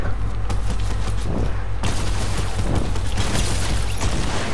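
Rapid bursts of gunfire from a gun in the video game Fortnite, loud and dense throughout, with a brief lull before a heavier volley resumes.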